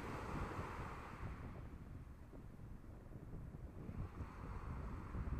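Continuous rumbling surf with waves washing in on a Maui shore lined with palm trees, heavy wind buffeting the microphone throughout.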